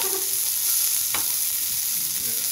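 A king crab wrap sears in a hot pan with a steady, close sizzle, and a brief clatter of utensils cuts in midway.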